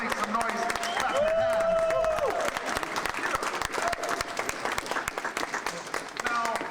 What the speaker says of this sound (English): Give Don MacGyver another round of applause.